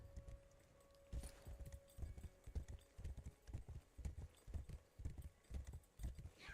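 A horse mount trotting in the video game Wayfinder, with steady rhythmic clip-clop hoofbeats, moderately close and even, running the whole time without talk.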